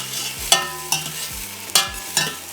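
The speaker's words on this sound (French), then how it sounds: "Là, on commence à faire rôtir les saucisses ou faire frire les saucisses" Sausages being fried for Réunion-style rougail saucisse, with a steady low sizzle under four sharp scraping stirs of a utensil against the pan, spaced roughly evenly, close and alone without talk.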